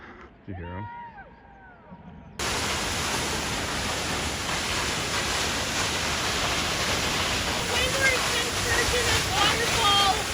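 Loud, steady broadband roar of a waterfall at Twin Falls, Idaho fills the scene close by after a brief quieter stretch with chirpy voices at the start, continuing unbroken to the end.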